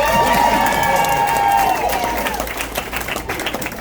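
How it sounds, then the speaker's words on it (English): A comedy club audience claps and cheers at a stand-up set, a dense burst of applause with whoops and voices mixed in, strong at first and gradually thinning out. "Clap for that shit."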